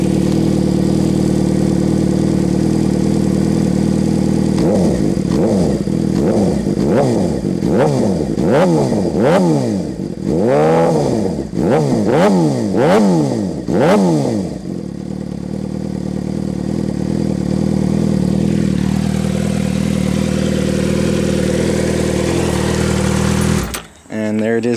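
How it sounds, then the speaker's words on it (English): Suzuki GSX-R600 K6 motorcycle with a Two Brothers Racing exhaust idles loudly up close, then revs in a string of about ten sharp throttle blips before dropping back to a steady idle. "there it is with the Two Brothers exhaust. I love the sound that exhaust makes"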